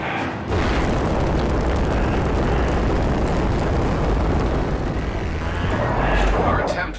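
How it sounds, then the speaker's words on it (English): Phaser fire blasting vents in a Star Trek video game, a loud sustained roaring burst of energy and explosions that runs almost unbroken. "Perhaps our phasers will work. Worth a shot. It works! Keep shooting out those vents!"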